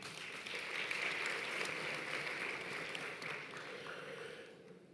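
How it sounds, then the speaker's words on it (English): Steady applause from a crowd at a university Africa Day celebration, fairly faint and distant, sustained for several seconds before tapering off. "Let us give the VC another warm hands of applause."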